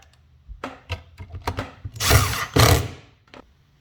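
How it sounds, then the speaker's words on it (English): A handheld power drill drives flat head screws into pre-drilled holes during a cleat assembly, several short whirring bursts and then two longer, louder runs, close up with no talk. "we're going to screw those in real quick"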